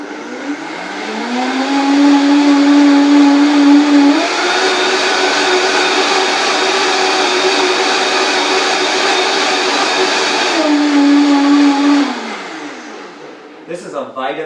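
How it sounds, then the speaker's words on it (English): A Vitamix blender whirs up from low to a loud high-pitched roar, holds steady, then shifts down and winds off near the end. "This is a Vitamix, by the way, blender."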